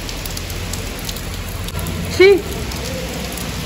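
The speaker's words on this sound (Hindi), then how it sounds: "अभी हो रही है बारिश" Steady, dense monsoon rain hiss pours down continuously onto a rooftop, with a brief voice cutting in partway through.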